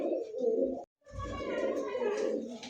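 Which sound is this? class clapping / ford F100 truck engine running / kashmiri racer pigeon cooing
kashmiri racer pigeon cooing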